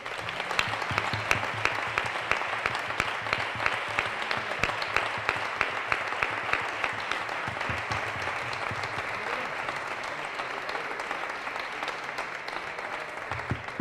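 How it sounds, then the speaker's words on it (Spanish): An audience at a viticulture and oenology week lecture applauds steadily for about fourteen seconds, a dense even patter of many hands from a large crowd. "al que yo pido otro aplauso"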